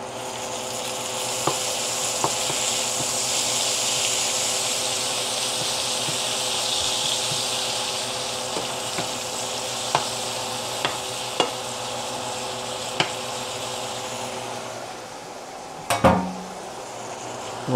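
Ground pork and onion frying in a pan, a steady loud sizzle with occasional stirring clicks and a sharp clatter near the end.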